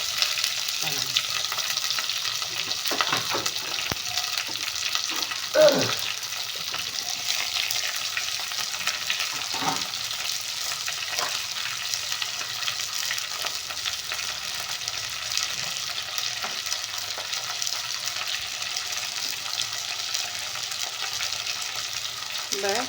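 Onions and ivy gourd frying in oil, a steady crackling hiss that keeps going at a moderate level with a few faint knocks and stirring noises. Nothing else stands out, and no voice is clear.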